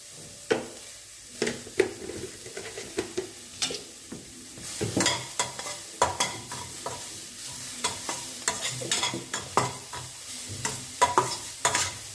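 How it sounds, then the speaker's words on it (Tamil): Mixed vegetables with peas, salted and sautéing in oil for a vegetable pancake, with a soft steady sizzle broken by frequent, rhythmic stirring scrapes and taps of a spoon against the pan. "எல்லாம் கொஞ்சம் நேரம் இது வதங்கட்டும். கொஞ்சம் எண்ணெய் போட்டு வதக்கிக்கோங்க"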